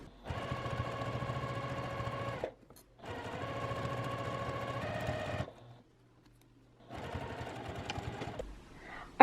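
Sewing machine stitching across the top of a tote bag pocket, three sustained bursts of rapid mechanical whirring separated by short pauses, close and fairly quiet.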